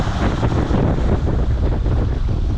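A strong bora wind roars across a sailing boat on the Adriatic near Krk, a dense, steady rumbling buffet against the microphone with slight gusty surges and no voices.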